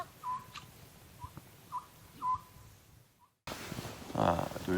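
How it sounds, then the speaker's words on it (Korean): Birdsong outdoors on Chungnyeongsan mountain during a backpacking camp: several short, faint whistled chirps spaced apart in the first few seconds, then louder voices talking over an outdoor background. "새소리도 들리는데"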